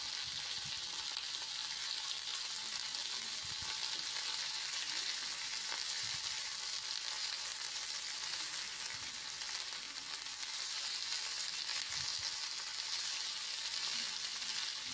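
Minced ginger and garlic frying in butter and oil for pav bhaji, a steady, close, continuous sizzle with occasional stirring clinks, loud throughout with no talking.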